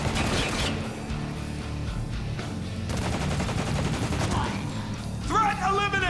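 Sustained automatic gunfire from the Spec Ops: The Line shooter, dense and loud throughout, with bursts of rattling shots layered over a busy battle mix and a brief whistling effect near the end.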